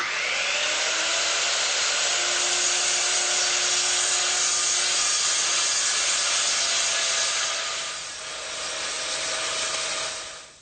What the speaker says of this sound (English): I'm going to use my circular saw to take out that material.